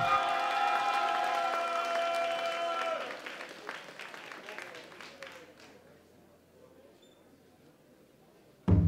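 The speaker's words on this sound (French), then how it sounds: "Donc applaudissez bien fort, Sasuke et Orochimaru de Naruto." Audience at a Sunday cosplay contest applauds Sasuke and Orochimaru cosplayers from Naruto, steady crowd clapping under loud stage music that cuts out, then fades to scattered claps before a sudden burst at the end.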